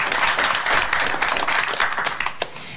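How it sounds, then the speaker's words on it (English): Audience applause at a county board of commissioners meeting, a steady wash of many hands clapping for nearly three seconds with no voices over it. "So let's give all of them a round of applause for their service."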